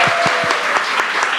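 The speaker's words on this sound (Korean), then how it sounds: "박수 한번 하시겠습니다" Clapping from a church congregation during a service, a dense, steady round of applause with a few sharp individual claps standing out near the front.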